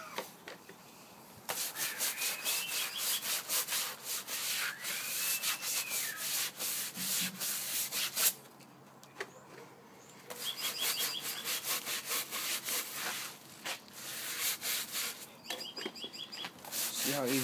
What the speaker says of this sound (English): A little scrubbing. Take the blue stuff right off.